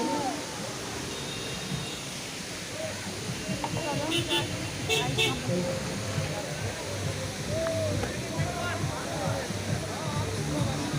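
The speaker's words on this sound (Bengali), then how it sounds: "দেখলে কতটা উঁচু থেকে ঝর্ণাটা জলটা পড়ছে" A tall waterfall on the mountain road to Lachung in North Sikkim roars steadily in the background while several people talk excitedly over it, with a faint car horn now and then.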